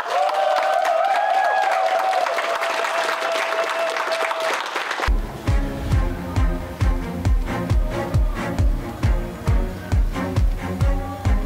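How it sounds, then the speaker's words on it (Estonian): An audience at a EuroSkills competition event in Herning gives a loud, dense burst of applause with some cheering, then it settles into rhythmic, unison clapping in a steady beat. "suur aplaus teile"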